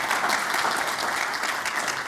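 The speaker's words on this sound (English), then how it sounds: "So can I just have a quick round of applause for our panelists now?" A business forum audience gives the panelists a brief, steady round of applause, a dense even patter of many hands clapping at moderate volume.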